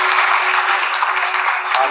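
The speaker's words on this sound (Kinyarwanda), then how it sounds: "Amashyi menshi kandi amashyi menshi ku Uwiteka" Sustained applause from a church congregation honoring worship leaders at a Rwandan gospel service, a steady dense wash of clapping that holds at even loudness throughout with no pauses.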